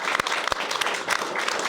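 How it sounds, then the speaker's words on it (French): Studio audience applause on a talk show set, dense sustained clapping at an even level with a few sharper individual claps standing out, heard close and alone. "on peut l'applaudir bien fort"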